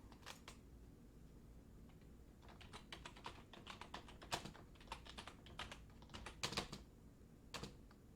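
Keys on a computer keyboard tapped in short irregular bursts, close and fairly quiet, while a stock ticker symbol is entered, with brief pauses between clusters of clicks.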